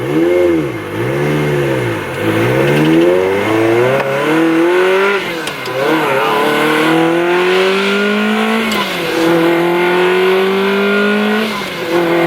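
A Ferrari 360 Spider engine revs repeatedly with the top down, climbing and dropping in pitch with each throttle blip, loud and close.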